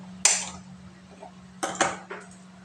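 A metal wok set down on a gas stove clanks sharply once, then two more quick metallic knocks and a softer scrape follow over a low steady hum.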